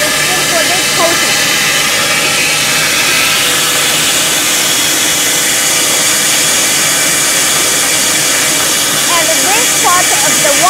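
A 32mm tube mill production line forms and welds pipe, producing a loud, continuous industrial hiss and roar with no break in the noise.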